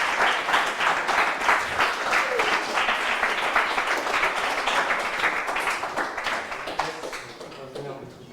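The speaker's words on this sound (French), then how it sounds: "Avec un tonnerre d'applaudissements, s'il vous plaît." Studio audience of a quiz game show gives thunderous applause: a thick, continuous wash of clapping at steady loudness that begins to thin near the end, with a voice faintly underneath.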